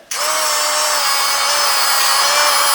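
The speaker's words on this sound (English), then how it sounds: "I don't use a grinder, I use a tungsten sharpener, and it works quite well" A tungsten electrode sharpener grinds a tungsten welding electrode, starting abruptly and running as one loud, steady motorized whine with a thin constant tone, close and uninterrupted, with no voices.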